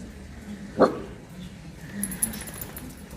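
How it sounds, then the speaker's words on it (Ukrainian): A small dog inside a plant shop gives one short, sharp bark against quiet room noise, followed by faint rustling. "Ой, десь собачка тут."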